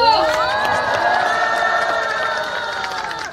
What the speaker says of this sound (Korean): 박수 큰 박수!